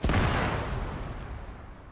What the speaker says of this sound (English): But if I'm behind the house, I can't see it explode.